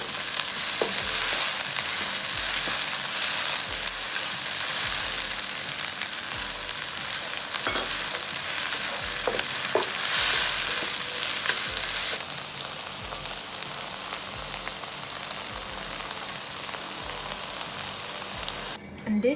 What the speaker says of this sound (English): Add plain water and continue to stir fry for 3 to 5 minutes or until the water has fully evaporated.